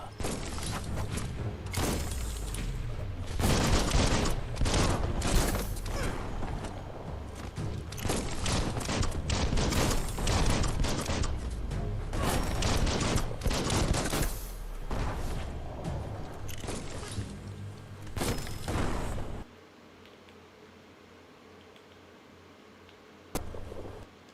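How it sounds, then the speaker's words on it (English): Bomb lobber weapon in the game Biomutant firing repeatedly, a dense barrage of booming blasts and crackling explosions for about twenty seconds, then an abrupt drop to quiet ambience with one last faint hit. "It's a bomb lobber."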